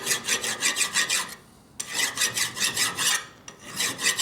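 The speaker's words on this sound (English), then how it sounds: "It doesn't do much damage from filing, but it also doesn't take much metal off" Hand file rasping on a metal part from a 1958 Harley-Davidson panhead 74ci engine, rhythmic close strokes in two bursts separated by short pauses, no voices.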